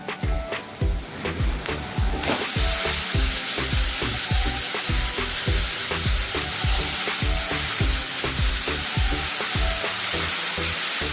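Washed radish pods with a pinch of turmeric hit a hot pan and break into loud, steady sizzling frying, with rhythmic stirring knocks throughout.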